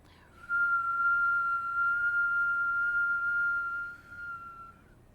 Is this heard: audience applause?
no